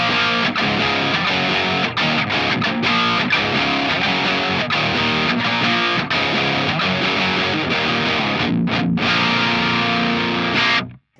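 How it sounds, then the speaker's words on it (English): An electric guitar played through a Boss SD-1 overdrive pedal at mid-gain, giving a dense, gritty distorted tone with steady strummed chords and brief gaps, loud and continuous until it stops abruptly at the end. "Pushing the SD-1 into mid-gain sort of drive territory happens very, very early on in the sweep of the drive knob."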